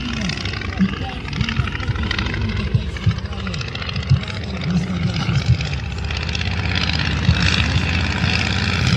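A 1942 Po-2 biplane's propeller engine drones steadily during a demonstration flight at Pervushino airfield, a loud continuous buzz with slight pitch wavering, heard under people talking.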